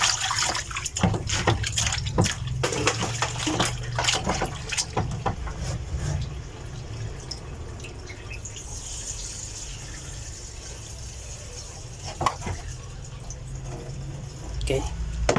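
Tap water runs steadily over freshly sliced squid being rinsed by hand, a continuous splashing wash with scattered clatter and knocks, most busy in the first half before settling into a quieter flow.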